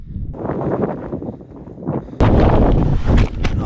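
Strong wind buffets the microphone near the summit of Quandary Peak, a rough, close roar with gusts that surges much louder partway through and stays heavy.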